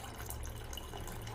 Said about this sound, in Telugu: చూడండి, ఇట్లా వాటర్ అయితే మనం పోయాలి.